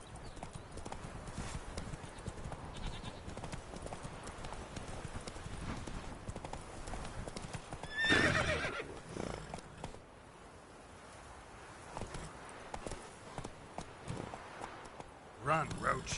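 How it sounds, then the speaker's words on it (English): The horse Roach gallops in The Witcher video game, a rapid steady clip-clop of hooves with a brief neigh-like burst partway through, while a voice speaks over it. "Run, Roach."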